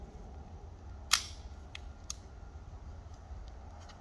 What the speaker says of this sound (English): First up, we have 22 long rifle and the Ruger Mark III.